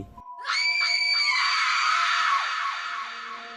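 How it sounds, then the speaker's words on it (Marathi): A woman screams loudly and wildly, one long sustained shriek that holds for about three seconds and then trails off, alone with no talk around it. "ती वेड्यासारखी किंचाळली"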